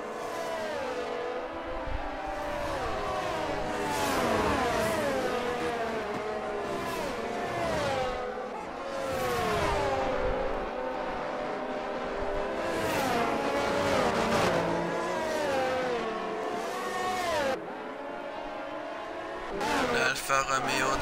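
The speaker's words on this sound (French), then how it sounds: "Alfa Romeo de Landry qui passe" An Alfa Romeo race car in a racing video game roars past with rising and falling engine tones. Other cars' engines overlap the whine in a continuous, loud stream before it briefly drops off near the end.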